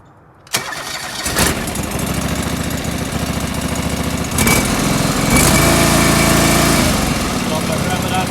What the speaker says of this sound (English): if I rev it up to clear out all the fuel, it seems to run good for 10 seconds, 15 seconds